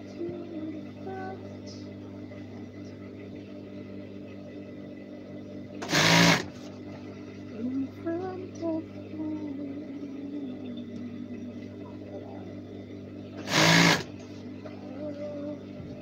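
A sewing machine stitches a uniform waistband, its steady motor hum running throughout, with two short, louder bursts of fast stitching partway through and near the end.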